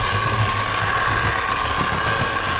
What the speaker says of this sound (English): The engine does go, does move around the layout